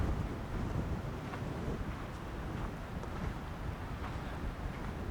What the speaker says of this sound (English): it is super windy out right now